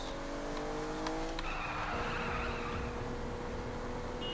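A racing car engine in the video game Saints Row: The Third drones steadily with tires squealing and skidding, a continuous loud motor hum with no voices.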